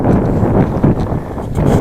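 Steady wind buffeting the microphone along an open mountain ridge, a broad continuous rushing roar with gentle swells in strength, loud and close throughout with no voices.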